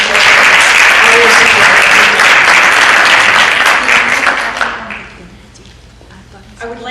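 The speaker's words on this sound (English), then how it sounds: "So a good round of applause for all of you for coming." Applause fills the room at a black tie gala, a dense sustained wash of many hands clapping that fades after about five seconds, leaving a quiet hall with a few scattered claps near the end.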